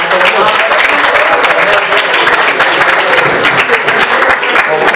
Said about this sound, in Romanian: Aplaudați liceul teologic.